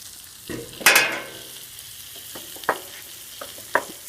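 Green tomato slices frying on a Blackstone griddle, a steady low sizzle broken by a loud scraping flip near the start and a few sharp clicks of a spatula later, with no talking.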